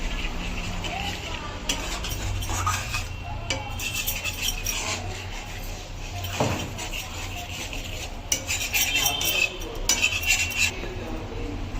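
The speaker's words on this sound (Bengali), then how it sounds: "জল দিয়ে একটু ভালো করে নাড়াচাড়া করে নিলাম" A spoon stirs sardine curry with added water in a pan, clinking and scraping against the metal in irregular strokes, with light background noise around it.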